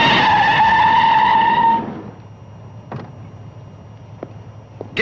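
A 1960s car arrives, its engine and tires giving a loud whining, skidding rush that cuts off abruptly, then a few light clicks and a door-like thud as it stops nearby.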